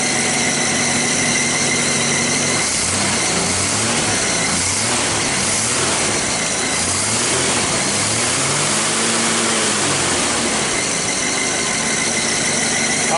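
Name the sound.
straight six engine running with rebuilt carburetor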